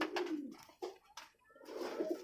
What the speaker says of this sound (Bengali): আমাদের দেশি কালদম।